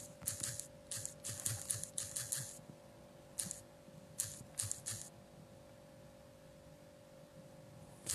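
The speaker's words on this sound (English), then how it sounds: "Let me type it out here." A phone number is typed on a keyboard: two close bursts of quick, light key clicks with a pause between, over a faint steady electrical hum.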